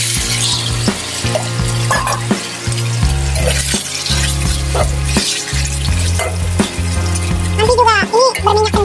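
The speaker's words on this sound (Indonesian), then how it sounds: "Mau tak goreng, kalau namanya minyaknya udah panasan," Chicken pieces fry in a little hot oil, sizzling steadily with clinks and scrapes of stirring, close and loud; a voice talks over part of it.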